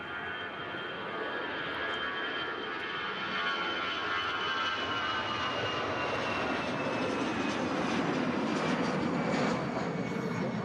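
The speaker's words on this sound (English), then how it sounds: "this EasyJet's on its way to Munich." EasyJet airliner jet engines at Manchester Airport, a steady, loud broadband roar that swells gradually over the whole stretch, with no talking.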